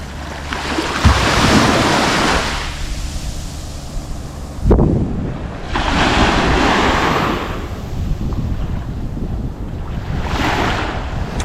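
Waves wash onto a white-sand beach at Colonia de Sant Jordi, Mallorca, in loud rolling surges of roughly four seconds each, heavily buffeted by wind noise on the microphone.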